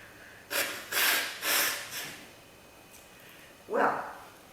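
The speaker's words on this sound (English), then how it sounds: "I have to blow my nose." Person blowing their nose, a few short forceful nasal blasts in a quiet room, ending with one sharper sniff-like burst.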